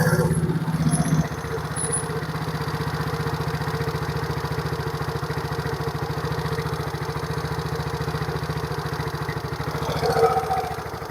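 A Yamaha Mio J fuel-injected scooter, propped on a block, idles with an even, rapid putter that stays steady for the whole stretch. A brief clatter comes at the start and a small rise near the end.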